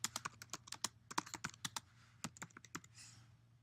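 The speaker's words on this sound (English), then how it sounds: "If you click on that text box, you can type into the text box." Fingers type on a computer keyboard to enter text into an InDesign text box, a quick close run of crisp key clicks with short pauses, trailing off near the end, no voices.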